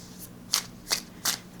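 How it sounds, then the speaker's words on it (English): Thick, weighty Lenormand cards shuffled overhand, giving four crisp, close riffling bursts spaced at a steady rhythm with quiet gaps between. "overhand shuffling seems nice"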